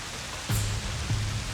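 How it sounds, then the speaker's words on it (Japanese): Steady rain falls in an outdoor period samurai scene, a dense even hiss throughout, broken by two brief low thuds. "雨音が我らの足音を消してくれよ。"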